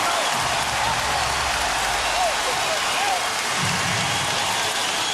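A crowd in a basketball arena at a 2005 NBA playoff game between Phoenix and Dallas roars in a dense, sustained wall of cheering and applause, with a commentator's voice running faintly underneath.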